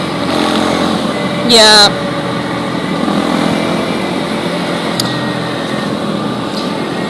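Steady wind-blown engine drone of a CPi SM250 motorcycle on the move, continuous and fairly loud throughout, with a rider briefly speaking over it.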